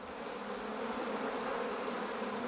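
Black bees of Ouessant buzzing at an island apiary, a dense continuous swarm drone, close and steady with no voices.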